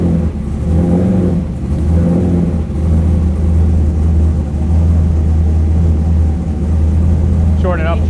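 A C5 Corvette engine idles with a steady low rumble while being put into gear, with a few brief rises in pitch, and people talk over it throughout.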